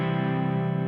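Electric guitar through a Supro amp with spring reverb, a single sustained distorted chord ringing evenly and loudly for under a second with no voices.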